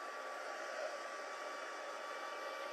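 An embossing heat tool blows hot air in a steady, even whoosh, close and continuous for the whole stretch, with no talking.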